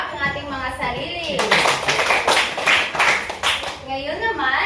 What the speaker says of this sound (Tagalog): Bigyan natin ng palakpak ang ating mga sarili